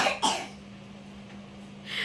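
A small child coughs sharply twice near the start, then again softly toward the end, close and in a quiet room with a low steady hum.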